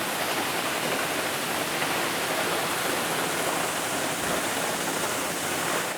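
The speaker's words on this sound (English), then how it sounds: "But this is the big waterfall down here." A big waterfall deep in the Sipsey Wilderness roars in a steady, dense, close wash of falling water that never lets up, with no voices.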